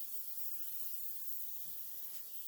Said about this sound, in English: I'm gonna spray some olive oil on it.